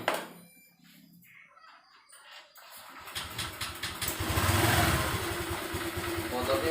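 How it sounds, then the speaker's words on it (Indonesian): A Honda Vario 125 scooter, previously failing to start with a blinking indicator, is started and settles into a steady idle nearby, with chickens faintly audible in the background. "Motornya udah hidup lagi."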